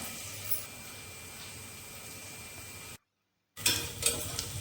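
Onions sautéing in a pan with curry leaves, a soft steady sizzle with faint stirring scrapes, then a brief silent gap before louder scraping and clatter return.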